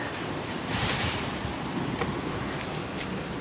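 Steady rain falls outdoors under a dark stormy sky, a dense even hiss of drops with a few faint brighter taps, continuous and fairly close throughout.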